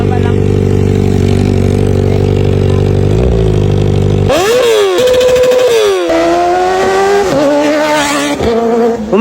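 Motorcycle with its old exhaust pipe, first idling loud and steady with a deep rumbling drone, then revved hard several times, the pitch sweeping up and dropping back in rough, loud bursts close by.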